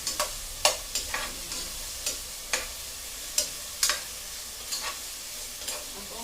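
Tomatoes sautéing in a pan for pork sinigang, with soft sizzling beneath a series of sharp spatula scrapes and clicks that come at irregular intervals, close and moderately loud, with no talking.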